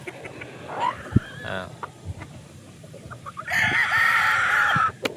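Several gamefowl roosters cluck and crow nearby on a game farm, with a long, loud cock-a-doodle-doo near the end over faint farmyard background noise.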